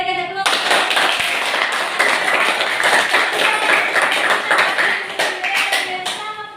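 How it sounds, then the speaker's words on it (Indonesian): An audience at a classroom group presentation bursts into loud, sustained clapping that fades slightly toward the end, with a voice heard just before it starts and again as it dies down. "Oke, kita berikan tepuk."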